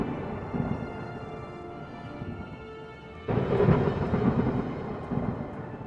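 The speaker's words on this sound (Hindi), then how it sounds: "गांव में जोरदार बारिश शुरू हो गई" A cartoon sound effect of heavy rain over a village pond, with a sudden thunder crash about halfway through that swells into a louder, rumbling downpour.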